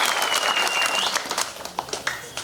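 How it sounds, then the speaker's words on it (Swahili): A crowd at a political rally applauds, a dense burst of clapping and cheers that thins into scattered claps toward the end. "Tutamkaribisha kwa makofi na shangwe sana kabisa."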